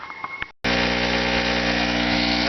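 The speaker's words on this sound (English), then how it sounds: "You can hear the generator is bogged hard." Portable generator running bogged down hard under a heavy 55-amp battery-charger load, a loud steady droning engine hum that starts abruptly after a brief quiet gap and holds unbroken to the end.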